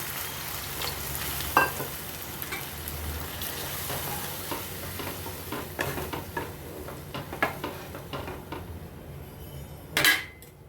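Chicken frying in a pan and being stirred, a steady close sizzle broken by scraping strokes and clinks of a utensil against metal, with a louder clatter near the end.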